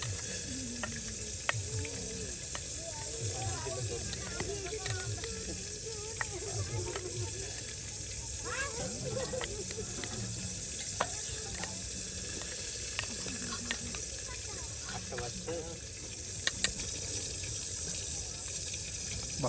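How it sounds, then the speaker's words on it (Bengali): Eggs stirred and fried in a pan for Bengali egg bhorta at an outdoor riverside cook-up, a steady soft sizzle with scraping stirs throughout, while voices talk and chatter in the background. "দেখুন একদম ডিমগুলো এখন আওলানো হচ্ছে"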